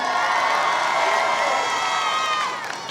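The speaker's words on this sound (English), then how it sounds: "Let's give a special loud applause for Andy Cholette." A crowd at a 2019 high school graduation cheers, whoops and claps loudly and steadily, with children shouting among the noise before it eases off at the end.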